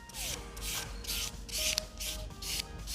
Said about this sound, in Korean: 부드러운 피니셔를 이용해서 표면을 한번 다듬어 줄게요.